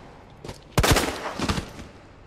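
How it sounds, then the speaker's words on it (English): Gunfire from the Resident Evil 2 Remake on PS5, with a couple of sharp shots and a brief cluster of reports, moderately loud against a quiet background. "I shot first"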